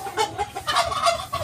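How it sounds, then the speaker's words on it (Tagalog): A few chickens in a quarantine pen cluck close by in short, repeated bursts, the calls coming in quick succession with no other sound around them. "So mayroong mga manok pa doon, tatlo."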